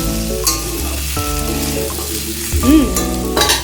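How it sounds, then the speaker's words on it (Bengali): Pumpkin and potato curry sizzles in a pan while a spatula stirs it, over steady frying noise, with tonal background sounds like music or a faint voice mixed in. "এই যে নাড়া হচ্ছে, নাড়িয়ে নিলাম।"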